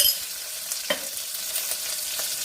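Mustard seeds, cumin, dried chilli, curry leaves, onion and ginger-garlic paste fry in a pan for cluster bean curry, giving a steady soft sizzle with occasional stirring scrapes, fairly quiet and without voices.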